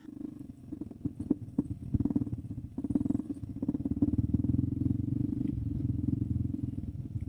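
Honda CRF 300F motorcycle engine idling and burbling on a trail at first light, a low steady close rumble with a few sharp clicks and revs early, constant to the end.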